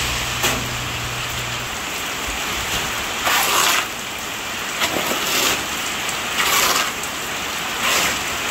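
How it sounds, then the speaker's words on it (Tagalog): Heavy rain pours steadily in a broad, hissing wash, with louder gusting surges every second or two and a brief low hum at the start; no talking. "lumakas na po ang ulan"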